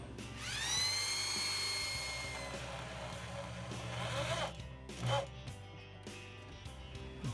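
A power drill whines up and spins briefly as holes are pre-drilled and screws driven into a wooden BBQ cart cabinet, followed by a short second burst and light handling clatter, all fairly quiet.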